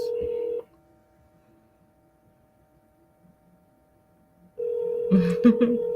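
A telephone call is placed, a steady ringback tone sounding twice with a long silent gap between, close and clear, with brief noise at the start and end.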